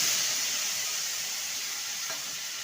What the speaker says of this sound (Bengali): ফোড়নটা ভাজা হয়ে গেছে এবার পোস্ত কাজু বাদাম আদা আর কিশমিশ বাটা দিয়ে দেব